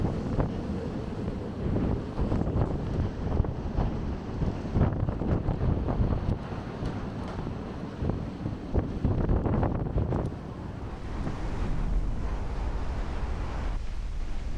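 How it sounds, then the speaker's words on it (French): Strong wind of 50 knots roars against the microphone over building waves in the Drake Passage near the Beagle Channel, continuous and gusting, with no voices. "avec 50 nœuds de vent et des vagues en formation"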